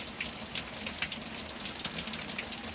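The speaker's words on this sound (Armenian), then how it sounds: "Ինչպիսի անձրև է գալիս։" Steady rain falls at night outside an open balcony door, a dense continuous hiss with scattered drops and no voices.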